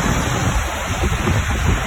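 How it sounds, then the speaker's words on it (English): Heavy rain pouring during a storm that brought flash flooding in New York and Pennsylvania, a steady dense roar of falling water that stays loud and even throughout with no voices. "the scattered bouts of heavy rain led to flash flooding"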